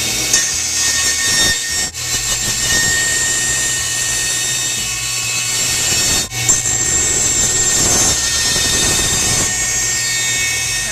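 Power tool cutting through a metal exhaust bracket on a smart car rear valence, a loud continuous high-pitched whine and grind with brief drops where the cut pauses.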